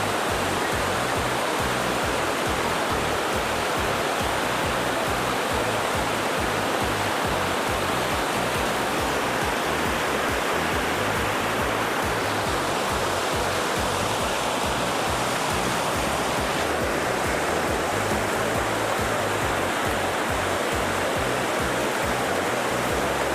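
Tarabu waterfall at Pittalabor, Andhra Pradesh, roars as a steady, loud, broadband rush of falling water, continuous and close throughout with no voices over it.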